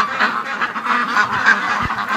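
Ducks being raised on a farm honk and quack in a loud, continuous cluster close by, with many overlapping calls and no talk.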